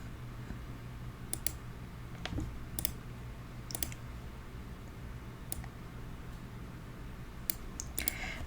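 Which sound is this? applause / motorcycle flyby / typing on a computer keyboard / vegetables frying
typing on a computer keyboard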